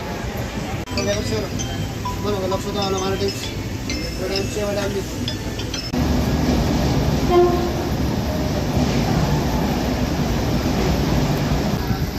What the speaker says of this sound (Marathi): आपण निघता निघता असं ठाण्यावरून आपली ट्रेन निघाली